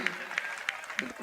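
At a Hindi poetry event, four sharp, evenly spaced claps ring out in a steady rhythm against a low, murmuring crowd background.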